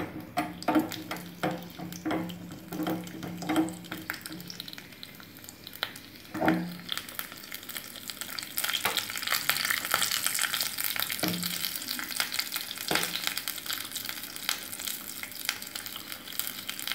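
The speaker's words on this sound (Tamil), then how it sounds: "முதல்ல பச்சை மிளகாவையும் பூண்டையும் எண்ணெயில் வதக்கிக்கலாம்." Green chillies and garlic frying in oil for a peanut chutney, a steady hiss with occasional sharp clinks and scrapes of a utensil against the pan, continuing on its own without talk.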